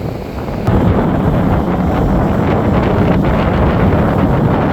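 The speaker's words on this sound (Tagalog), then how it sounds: "Kalalaki ng alon." Strong wind buffets the microphone over big rolling sea waves near boats, a loud, continuous roar with no pauses.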